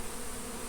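Steady, close swarm hum of honey bees buzzing around a hive box during a removal from under a house, a continuous drone with no talk.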